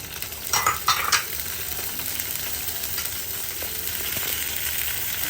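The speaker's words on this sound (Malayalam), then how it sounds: "നന്നായിട്ട് ഇളക്കി കൊടുക്കണം" Okra and tomato stirred in a pot for sambar, a spoon scraping and clinking in a short burst near the start over a steady soft sizzle.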